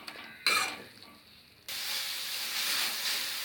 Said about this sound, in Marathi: हे आता व्यवस्थित परतून घेऊया। हे पण आता ड्राय होऊ देऊया, जरा सुकवून घेऊया व्यवस्थित।